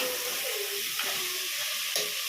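Mutton pieces being stirred and fried in a pressure cooker for biryani, a steady close sizzle with scraping stir strokes throughout and no talk.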